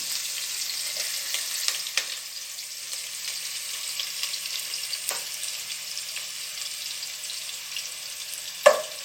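A handful of sliced onions deep frying in hot oil for a Thalassery-style chicken dum biryani: a continuous close bubbling hiss with scattered pops and a sharp clatter near the end, no voices.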